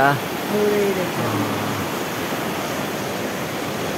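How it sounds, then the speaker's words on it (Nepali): A steady, unbroken roar of a waterfall crashing down over rock, dense and constant throughout, with a brief voice at the very start. "झरना चट्टान माथिदेखि झरना खसिरहेछ"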